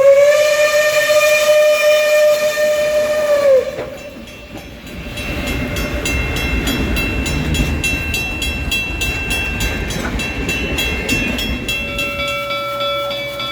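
Reading 2102 steam locomotive sounding a loud, sustained steam whistle, then chuffing and hissing with rolling clanks as the train pulls away from the stop at Port Clinton.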